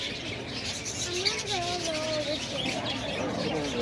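Budgerigars chirp and twitter in a busy flock amid a noisy, echoing zoo space, with a steady chatter of calls.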